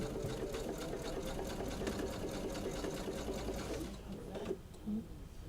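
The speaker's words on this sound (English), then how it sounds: "Okay, and I'm doing a 1/4" seam." A sewing machine stitches a quarter-inch seam on fabric cut nearly on the bias. It hums in a steady, rapid run for about four seconds, then stops, leaving a few soft handling noises.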